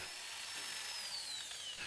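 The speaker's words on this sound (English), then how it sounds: "Drill all of the holes for the switch boxes and the saddle bars," A power drill with a masonry bit bores wall-plug holes for switch boxes and saddle bars, a continuous high whine with a gritty grinding edge that holds steady and close, pitch sagging slightly toward the end, with no talk.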